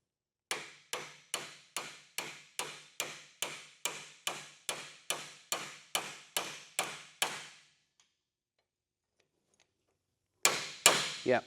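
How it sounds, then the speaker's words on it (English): Hammer gently tapping a splined hinge pin into a 2nd-gen Camaro door hinge: about fifteen even, ringing taps in steady rhythm, a pause, then a few more taps, close and clear. "And again, I'm just gently tapping."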